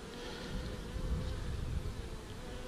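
Honey bees drone at an open hive during a beekeeper's inspection, a dense, continuous buzzing swarm close by that swells and fades slightly, with no talking.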